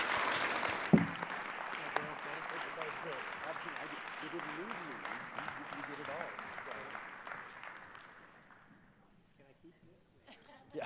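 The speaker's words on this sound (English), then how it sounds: "Please join me in thanking David Bradley for his brilliance and wit in joining us today" A conference audience breaks into applause after a closing keynote, a full burst of clapping that stays strong for several seconds and then tapers away to near silence, with a brief voice at the very end.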